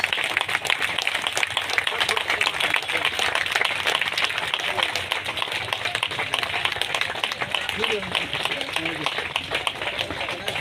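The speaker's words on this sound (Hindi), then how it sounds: "जोरदार तालियों से स्वागत करें मैडम जी का" A crowd at a political rally in Bhiwani claps steadily to welcome a speaker, a dense continuous patter heard together with someone speaking over a loudspeaker.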